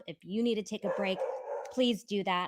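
A dog barks and howls in the background of a livestream about a courtroom trial, its yips and drawn-out whimpering howls loud and repeated, mixed with someone speaking.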